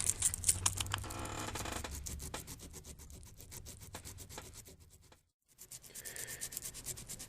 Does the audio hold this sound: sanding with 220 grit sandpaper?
yes